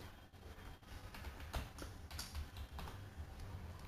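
A password is tapped out on a computer keyboard at an admin authentication prompt, as a quiet run of quick, uneven key clicks close by with no talking.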